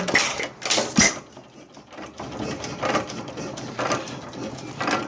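An Acadia model engine runs very slowly on a slightly tightened elastic band, giving soft, irregular mechanical clicks and thumps spaced well apart, faint and close.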